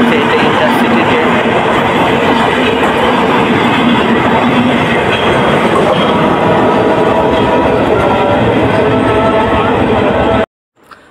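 An intercity train rolls through Jagati railway station in Kushtia, Bangladesh, a loud, close, continuous rumble of wheels and cars with rhythmic clatter, voices faintly underneath, cutting off abruptly near the end.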